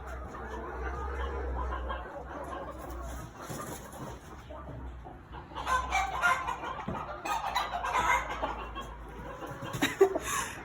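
Silkie chickens, including a black silkie rooster, cluck and call softly at close range, with scattered short bird vocalizations over low background hum and no talking.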